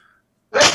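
A single sharp, loud sneeze bursts out after a near-silent pause, with a faint tone just beforehand.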